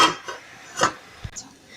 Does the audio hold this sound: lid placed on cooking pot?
yes